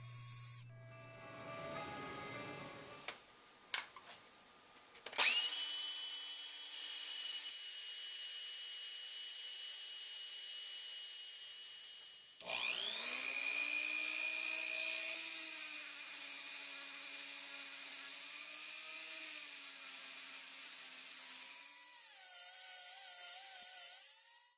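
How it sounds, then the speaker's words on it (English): A power drill runs at low speed during epoxy casting with BBs, whirring in steady sustained passes with a pause in between, after a few sharp knocks at the start. "it helps if you switch the drill to its low speed"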